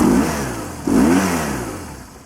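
Two sharp throttle blips from a nearby BMW R1100RT motorcycle engine, each rev surging up and then winding down smoothly toward idle.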